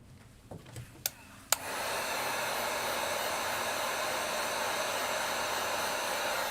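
A heat gun or hair-dryer-style blower switches on after a few small clicks and blows steadily, warming an iPad 9th Gen screen to soften the glue during a screen replacement.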